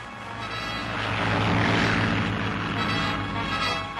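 Droning propeller aircraft engines, planes joining a Pacific sea search from the carrier Lexington, hum steadily at mid distance, swelling a little in the middle and holding loud and continuous throughout with no talk.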